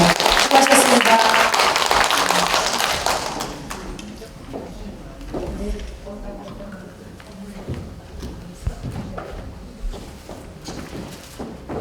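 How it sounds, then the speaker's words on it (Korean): Audience applause at a Korean women's policy forum held in the National Assembly conference hall, a loud burst of clapping for the first few seconds that breaks off abruptly, followed by quieter room noise, thumps and scattered sounds. "다시 한번 손인철 박사님께 감사의 박수 올립니다"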